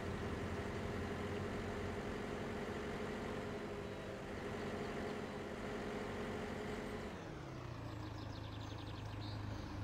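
A tractor engine in Landwirtschafts-Simulator 17 runs with a steady, loud low drone and rumble that keeps going throughout, dropping in pitch near the end as it settles toward an idle.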